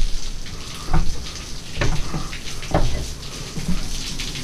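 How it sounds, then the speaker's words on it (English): Water dripping inside the Devil's Well cave, a natural sinkhole; scattered drops plink at irregular intervals against a steady hiss of trickling water, close and moderately loud. "It's dripping."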